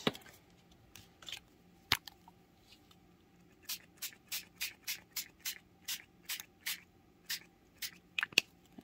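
A handheld spray bottle of stain is pumped in a fast run of about a dozen sharp hissing bursts, with a few scattered sprays before.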